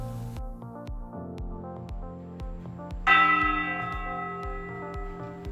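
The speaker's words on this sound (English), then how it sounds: "The latter keeps the oldest bell in Navarra, which you can ring yourself when the church is open with volunteers." Repeated strokes of a church bell on the Way of St. James between Larrasoaña and Pamplona in Navarra, steady evenly spaced rings with a long sustained ringing tail, one stronger louder strike partway through.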